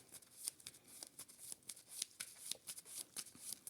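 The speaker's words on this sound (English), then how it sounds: "I have no cards, so I need to shuffle up and draw." Cards riffled and shuffled during a Dune: Imperium board game, a quiet run of crisp flicking bursts repeating steadily with no talk over them.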